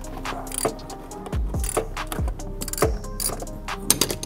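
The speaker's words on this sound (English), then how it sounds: "Loosen that up." A ratchet with a reverse Torx E12 socket loosens a bolt on a BMW N55 accessory belt tensioner, making several close, sharp clicking bursts in short uneven runs, mixed with metallic clinks and knocks in a tight engine bay.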